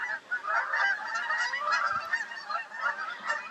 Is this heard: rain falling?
no